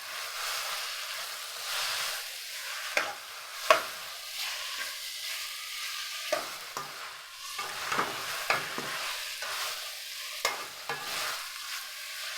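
Dry ingredients are roasted without oil over low heat in a pan for a spicy bitter gourd and field bean curry, with a steady soft sizzle and scraping, irregular stirring knocks close by.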